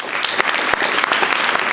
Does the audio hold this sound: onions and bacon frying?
no